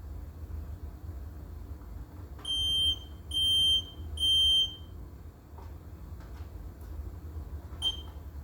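A household smoke alarm under test gives three loud piercing beeps in a quick row, then one short chirp a few seconds later, against a quiet background hum.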